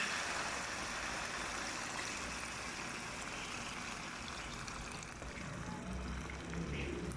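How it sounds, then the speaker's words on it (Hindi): Water poured steadily into a cooking pot of potatoes, peas and chicken, making a continuous close rushing stream that softens slightly toward the end. "अभी मैं इसमें डालूँगी पानी"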